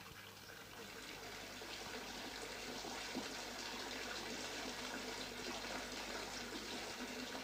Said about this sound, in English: Cold water before hot when filling the bath.